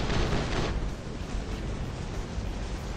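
A robot's heavy weapon fires in the War Robots game, a dense loud blast of booming shots at the start that settles into a sustained rumbling roar of battle noise.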